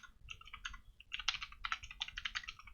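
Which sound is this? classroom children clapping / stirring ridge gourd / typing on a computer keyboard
typing on a computer keyboard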